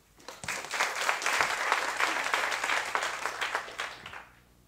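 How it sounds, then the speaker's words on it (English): University thesis-presentation audience applauding a speaker, dense crowd clapping that swells quickly, holds steady for about four seconds, then tapers off, with no talking over it. "Please give Daniel a round of applause."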